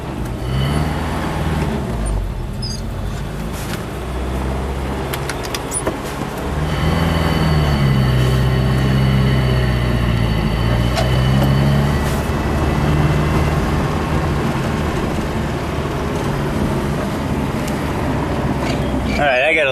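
A homemade wood gas truck running on firewood rumbles steadily, its engine drone and road noise filling the whole stretch with a rise in loudness partway through; no one speaks.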